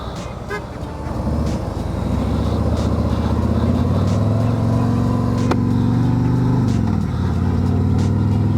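A 2024 Harley-Davidson Road Glide 3 motorcycle cruises along a road, its engine a steady low rumble that swells after the first second and holds loud and even, with road and wind noise and a brief tone partway through.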